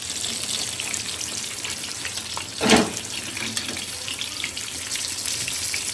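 Okra and eggplant frying in a pan in a Konkan home kitchen give a steady broadband sizzle, with one louder splash-like burst midway, and no voices.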